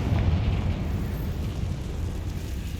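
A Confringo spell blast in Hogwarts Legacy, set in underground catacombs: a loud, booming explosive burst at the start that rolls into a sustained rumble and fades slowly over the next couple of seconds.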